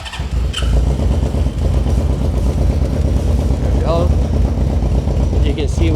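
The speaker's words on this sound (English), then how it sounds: "So let me get the bike started." A single-cylinder-synced motorcycle engine catches and runs on choke, settling into a loud, close, rapid idle with steady pulsing throughout, a few brief mechanical clicks over it.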